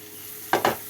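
Carrots and capsicum sautéing with onions in a pan, two quick scraping stirs over a steady background sizzle, close and fairly loud.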